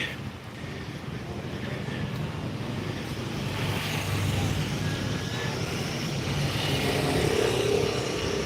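A busy Thai road carries motorcycles and a big truck past in a continuous rumbling roar of engines and tires, fairly close with swelling passes, heard from the roadside; no clear talking.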